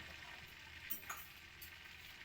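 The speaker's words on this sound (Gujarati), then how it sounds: "હવે આ જીરું આપણું સતરાઈ ગયું છે." Cumin seeds sizzle in melted butter in a pan for paneer bhurji, a soft, steady crackle close by with a couple of brief stirring scrapes, fairly quiet and without talk.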